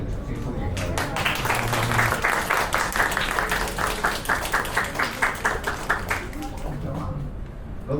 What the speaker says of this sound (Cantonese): 我哋都用掌聲歡迎佢。